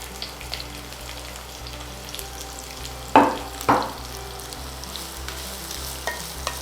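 Two chopped onions sauté in melted ghee with a faint, low sizzle, broken by two sharp clatters of stirring near the middle.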